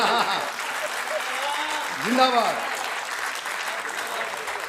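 An audience at a humorous Hindi poetry recital bursts into sustained applause, loud and continuous, while voices shout and cheer over it.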